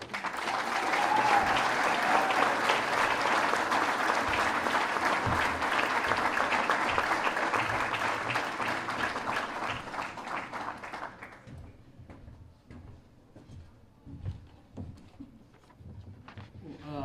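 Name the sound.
applause for award winner Mike Wall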